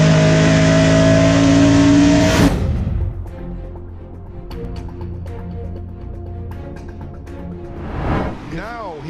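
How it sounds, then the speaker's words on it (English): A Boss Mustang race car with a push-rod V8 roars loudly down the straight, then its engine note drops away abruptly after a couple of seconds, leaving a quieter rumble and background noise with a voice near the end. "as it goes down the straight by the big push rod action movement on that Mustang of Roman"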